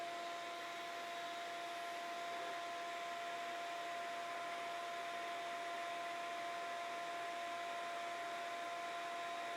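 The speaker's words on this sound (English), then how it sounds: "Now let's hook up the dust collector, see where it's at." A workshop dust collector with an empty collection bin runs steadily, giving a loud, constant airy roar with a faint high whine that holds unchanged throughout.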